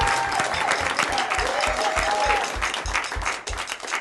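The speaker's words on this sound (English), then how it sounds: "You guys got to stop clapping." Studio audience at a low-budget late-night talk show applauding loudly and steadily for a guest introduction, dense and close-sounding, with a few cheers mixed in and no talk over it.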